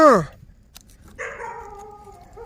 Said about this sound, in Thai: โอ้หมาก็มัน จองที่มันก็เห่าซะเหลือเกิน